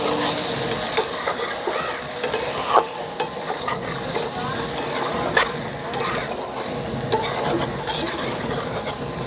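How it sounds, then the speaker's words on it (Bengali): Potatoes and eggplant are stirred with ground spices in a hot pan for a fish curry, with a constant sizzle broken by scraping strokes and occasional utensil clinks against the pan. "মশলার সঙ্গে আলু আর বেগুনটাকে ভালো করে মিশিয়ে নেব।"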